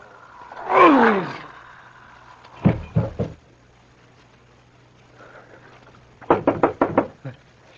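Two groups of sharp knocks on a door come in a radio drama, first three raps and later a quicker run of five, loud and close after a low roaring swell.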